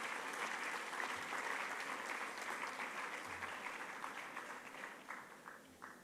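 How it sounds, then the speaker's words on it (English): An audience claps at a school annual day: dense, sustained applause from a large crowd, steady and fairly close, slowly thinning toward the end with a few scattered claps. "Let's give a big hand to our talented young stars."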